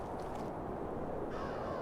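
Harsh cawing calls from crows in a video game, a few ragged squawks over a dense low background hum, faint and somewhat distant.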